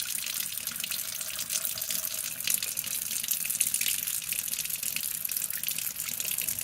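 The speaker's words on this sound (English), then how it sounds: "And the water level is going down." Water rushing steadily in a clogged kitchen sink as it drains, a continuous close hissing flow with no speech.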